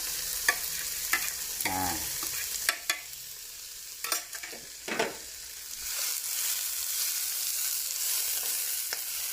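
Tofu skin and Japanese peas stir-fried in a pan, with a constant sizzle and a few sharp stirring scrapes and clatters, close by and with no one speaking.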